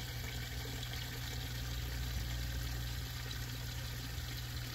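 Water drains from two washer charge hoses of an LG top-load washer into a bucket, a steady close rushing trickle of iron-tinged well water over a low constant hum, with no talk.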